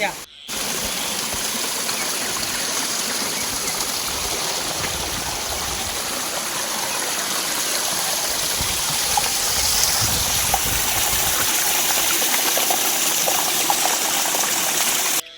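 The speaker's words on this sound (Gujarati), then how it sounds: "સરોવર છલી વળ્યા ને આછરું કપૂર જેવું પાણી જાય" Clear water gushes steadily from small ponds overflowing in the hills, a continuous broadband rush like a stream or small waterfall, close and even in loudness throughout.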